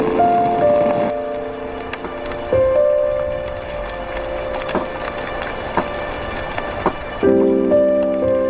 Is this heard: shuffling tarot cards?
no